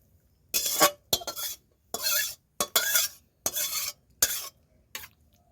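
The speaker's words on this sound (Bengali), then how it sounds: "এবার নামানোর পালা একটু নেড়ে নিচ্ছি" A spoon stirs vegetable curry in a pan, with several short scraping bursts and clinks at an uneven rhythm, separated by brief silences, close by.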